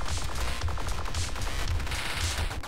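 Rapid machine-gun fire from a small fighter plane in the arcade dogfighting game Luftrausers, a steady stuttering rattle of shots with pulsing low thumps, loud and continuous with no talking.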